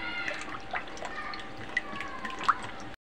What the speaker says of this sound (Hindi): अब दूसरा गिलास पानी डाल रही हूँ